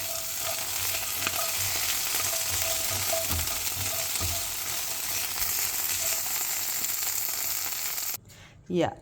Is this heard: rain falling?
no